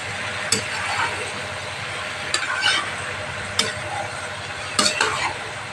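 Fried prawns are stirred back into a sizzling pan for a Bengali lau chingri dish, with a constant frying hiss and several sharp scrapes and clinks of a spatula against the pan.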